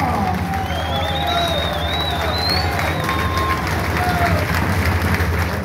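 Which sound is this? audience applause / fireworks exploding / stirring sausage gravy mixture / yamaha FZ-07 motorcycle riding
audience applause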